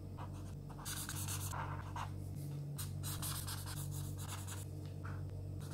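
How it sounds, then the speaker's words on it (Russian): A grey felt-tip marker colors in a pixel art drawing on gridded paper, making steady close scratchy strokes in repeated bursts over a constant low background hum, with no voices. "я беру серый фломастер и все остальное, все белую часть закрашиваю серым цветом"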